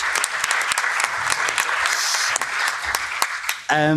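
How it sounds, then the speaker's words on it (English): Audience applause at a conference on the social economy, loud and steady with many overlapping claps, ending abruptly as a voice begins. "Round of applause."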